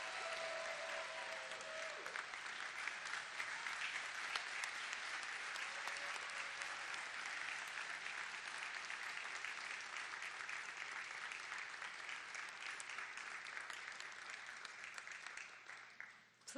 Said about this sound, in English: give these very important people the standing ovation that they deserve